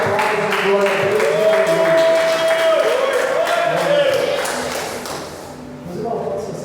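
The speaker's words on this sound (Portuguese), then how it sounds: "Aplauda o nome do Senhor de glória." Church congregation applauding, a continuous full wash of clapping that stays loud, then eases slightly near the end, with a voice speaking over it.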